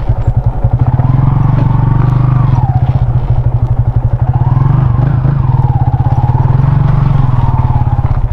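A motorcycle rides along with a loud, steady engine drone that rises and falls as it moves, with occasional clattering and bumps from the rough road.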